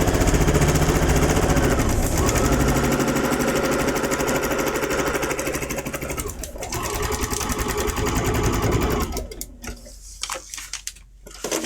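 A sewing machine stitches a Camaro seat cover, its rapid mechanical rattle running continuously and loud, slowing and pausing briefly before restarting, then stopping into scattered handling clicks near the end.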